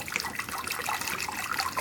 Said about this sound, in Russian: Итак, первые у нас 10 минут кипяточек был. Мы его выливаем и выбрасываем.